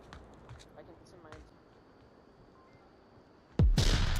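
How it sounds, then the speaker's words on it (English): Frag grenade blast in the VR shooter Onward during a competitive VRML match: a sudden loud, close explosion bursting in near the end after a quiet stretch of faint background game noise. "frag goes out"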